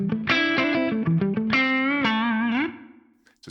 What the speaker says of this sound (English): So it's quite a nice shorter reverb on there.